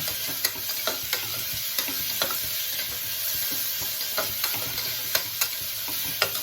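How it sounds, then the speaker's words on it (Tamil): Ginger garlic paste sautés in a pan for paneer biryani, a soft steady sizzle punctuated by regular sharp scrapes of a spoon against the pan. "அதில் இஞ்சி பூண்டு பேஸ்ட்டு இதாக இருக்கும் பச்சை வாசனை கூட வதக்கிக்கலாங்க"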